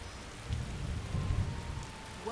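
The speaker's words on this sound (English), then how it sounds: "It would be pissing with rain, wouldn't it?" Rain and thunder in Skyrim with the Beyond Skyrim Bruma mod, around Greenwood: steady hiss of falling rain over low rolling rumbles of thunder, fairly quiet and with no voices.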